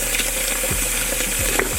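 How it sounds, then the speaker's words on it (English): Hot tap water running into a container, a steady moderate gush and splash with a low pump-like hum beneath. "I'm filling it up with hot tap water"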